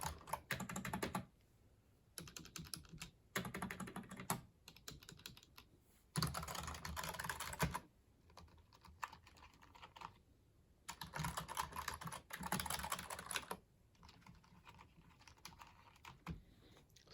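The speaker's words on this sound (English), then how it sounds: "You can see the difference that the quiet keyboard makes." Up-close typing on a quiet computer keyboard comes in bursts of muffled key taps separated by short near-silent pauses, repeating across the stretch with no voice.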